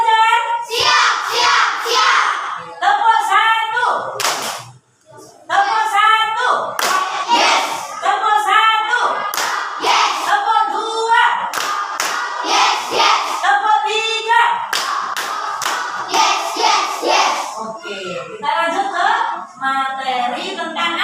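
Elementary schoolchildren in an Indonesian classroom doing a call-and-response clapping routine, bursts of loud rhythmic group clapping alternating with children's shouted chanting, with one brief pause near the middle.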